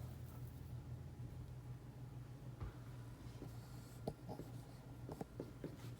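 Pen or pencil drawing a diagram to scale on paper during a physics lesson on apparent weight, soft continuous scratching with a few sharp taps, no voices.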